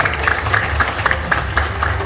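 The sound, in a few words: audience applause for a speaker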